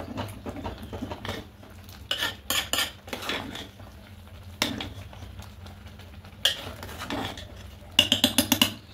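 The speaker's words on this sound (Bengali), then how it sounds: "তাই সামান্য একটু হলুদ গুঁড়ো দিয়ে দেবো, দিয়ে খুব ভালো করে মিশিয়ে নেব" A spoon scrapes and clinks against a pot while turmeric powder is stirred into Gobindobhog rice khichuri, with irregular metallic taps and bursts of clatter, a quick run of clinks near the end, close and fairly loud, no talk.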